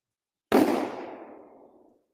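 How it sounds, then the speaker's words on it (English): A pressurized bottle bursts in one sudden loud blast, followed by a hissing, rushing decay that fades out over about a second and a half. "Come on, explosion."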